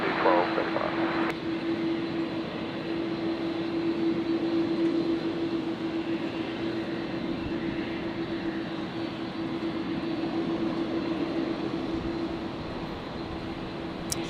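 An airliner takes off from runway 01 left at Brisbane airport with a steady broadband engine roar and hiss that holds across the clip, moderately distant, with a sustained hum running underneath.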